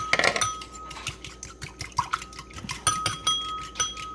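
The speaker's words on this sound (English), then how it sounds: "Mix it up." Ingredients with Dijon mustard mixed in a crockpot for balsamic chicken and Brussels sprouts, a spoon clinking and scraping against the pot in quick irregular taps, close and clear, no speech.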